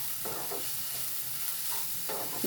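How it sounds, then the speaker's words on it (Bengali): Spiced poha (flattened rice) is frying in a pan and being stirred, giving a continuous close sizzle broken by repeated scraping strokes, with no voices. "এবার এটাকে একটু ভালো করে ঘেটে নেব।"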